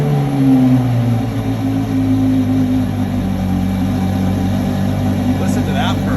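A car engine idles steadily and close, a smooth low rumble with no revving. Faint voices murmur underneath.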